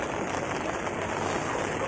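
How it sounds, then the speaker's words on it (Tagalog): Rain falls in a flower garden, a steady close hiss of drops hitting plants and surfaces with no pauses and no voices. "It's raining."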